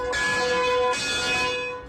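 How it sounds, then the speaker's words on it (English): A mission church bell rings on a Sunday morning in the Eden Gardens neighborhood of Solana Beach, San Diego's North County, two clear loud strikes with sustained humming tones that overlap and slowly decay. "The mission bell on Sunday morning."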